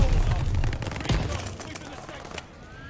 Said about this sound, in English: I'm shooting at teammates.